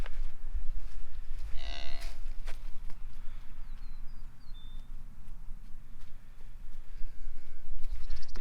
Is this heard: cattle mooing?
yes